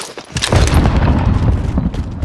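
A frag grenade blast in Call of Duty Modern Warfare Warzone, one loud booming detonation close by that rumbles heavily before slowly fading.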